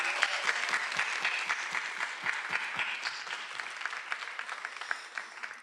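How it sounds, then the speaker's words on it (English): Graduating class of 2024 applauding at a commencement celebration, dense sustained clapping from a large crowd indoors, steady then gradually thinning. "Give yourselves a round of applause."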